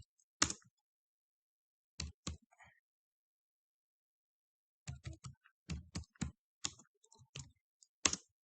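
Scattered bursts of keystrokes on a computer keyboard while typing code in VS Code, crisp close clicks in short clusters separated by silent pauses, quiet overall.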